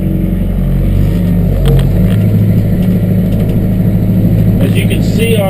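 A Massey Ferguson compact tractor with a 12-speed forward and reverse transmission drives off, its engine a loud steady low rumble with mechanical clunks, continuous and close.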